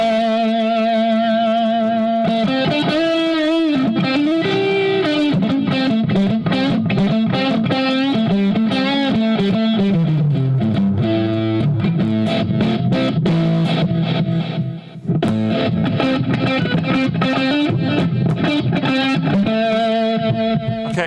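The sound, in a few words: guitar through Positive Grid Spark amp, Deluxe Reverb model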